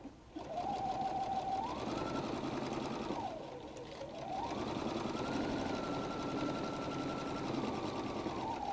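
A sewing machine stitches a messenger bag at a 2.5 stitch length, its motor whirring steadily and close, rising and falling in speed with a brief slowdown midway before running on evenly.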